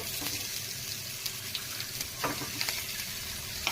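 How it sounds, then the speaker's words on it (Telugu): Ridge gourd peel and green chillies fry in oil with a soft, steady sizzle, broken by small clicks and scrapes of stirring, fairly quiet and close. "ఈ పచ్చివాసన పోయే వరకు వేయించుకోవాలి"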